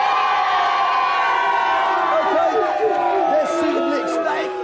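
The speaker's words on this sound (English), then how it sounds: "Give a cheer." A television studio audience at a games tournament show cheers and shouts loudly and continuously, a dense crowd roar with whoops, fading slightly at the end.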